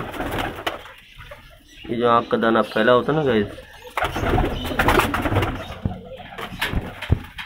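Pigeons coo in a short burst of throaty, repeated calls near the middle, with someone talking over most of the rest.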